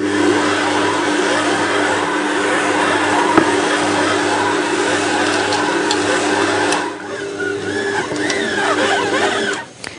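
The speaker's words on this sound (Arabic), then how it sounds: "وبشغل الخلاط لغاية ما تتشكل عندي العجينة." An electric mixer kneads dough of flour, butter and warm water for a savory cake, giving a loud, steady motor whir that dips in pitch partway through and cuts off at the end.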